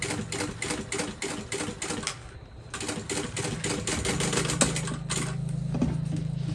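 A sewing machine runs top stitching along a black bowler bag, a fast steady mechanical chatter up close with brief pauses between stitching runs.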